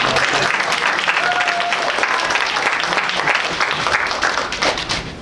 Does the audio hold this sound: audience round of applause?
yes